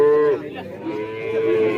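Cattle at a livestock market in Kajen, Pekalongan, Central Java, where calves and young stock are sold, give a long, close, drawn-out moo that dips briefly in the middle before resuming.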